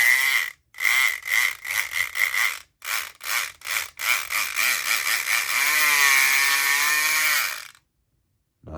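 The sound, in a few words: Southord electric lock pick buzzing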